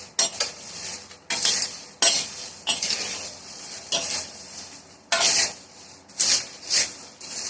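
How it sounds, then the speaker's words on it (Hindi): Jackfruit roasting dry in a pan without oil, stirred steadily with a spatula: repeated scraping, rasping strokes roughly once a second, close and fairly loud, with no one talking. "इतनी देर हमें इसको भूनना है, रेगुलर चलाते रहें आप इस तरह से।"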